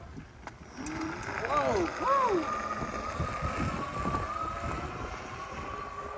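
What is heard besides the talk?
BPM F-15RZ 1000W electric bike accelerating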